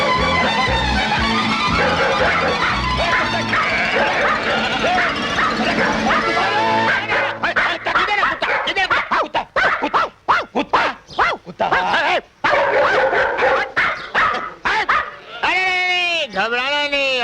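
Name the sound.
dogs barking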